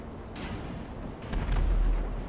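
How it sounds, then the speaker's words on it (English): A cargo bomb explodes over water in a video game, giving a deep, rumbling boom that swells about halfway through and lingers as a low roar over steady background noise. "It explodes and it's gone."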